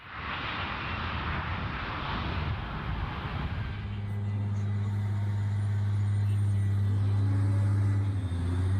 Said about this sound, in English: A process that necessitates the strategic use of water trucks to bind sand particles